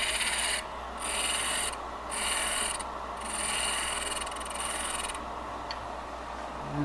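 A cracked wood blank is smoothed on a lathe, giving a steady rubbing scrape over the machine's hum, with the tool's hiss rising and falling in several passes.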